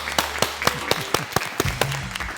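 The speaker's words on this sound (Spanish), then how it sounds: "Fuerte el aplauso." Studio audience applause for a guest arriving on a televised debate programme, a dense burst of clapping with sharp hand strikes, loud and close, running steadily for a couple of seconds.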